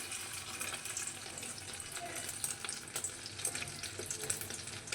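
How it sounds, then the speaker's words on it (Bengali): Egg-dipped chicken and banana-flower chops fry slowly in a pan over a low flame, a steady close hiss of bubbling oil with faint crackles throughout. "এইভাবে গ্যাস সিম করে এই ডিমের চিকেন মোচার চপগুলো আস্তে আস্তে ভেজে নিতে হবে"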